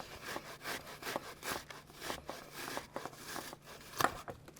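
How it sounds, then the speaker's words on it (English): An onion is grated by hand for turkey burgers, giving soft, quiet rhythmic rasping strokes in a steady back-and-forth pattern, with one sharper knock near the end. "we're going to continue going here with grating our onion"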